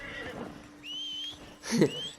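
A horse whinnies briefly in a Red Dead Redemption 2 game world, a short high call rising near the end, with game ambience and a faint tone around it.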